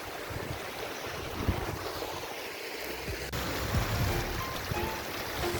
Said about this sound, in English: we're back down by the river now.